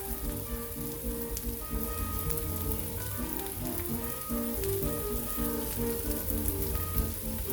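Shrimp sizzle in a hot frying pan, giving a continuous, dense crackling hiss at even loudness with no pauses, close and steady like rain on a surface.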